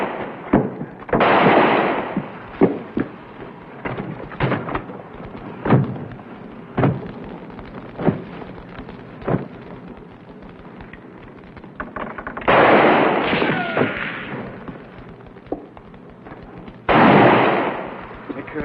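Gunfire aimed at a wagon in an old Western radio drama: a string of sharp gunshots, some close and some farther off, breaks out between louder bursts, with voices heard among the shots.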